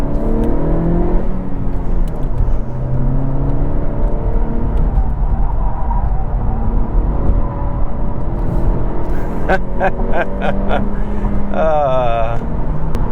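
A 2022 Honda Civic Si cruises on the interstate, with a loud, steady engine drone and road roar inside the cabin, a rising rev partway through, and a few brief ticking clicks near the end.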